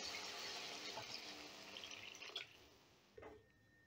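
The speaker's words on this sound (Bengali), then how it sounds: "এবারে গ্রেভির জন্য দিয়ে দিচ্ছি জল।" Water poured into a pan of fried papad for a gravy: a steady close pour with splashy, bubbling texture that tapers off, ending in a couple of small splashes, no voices.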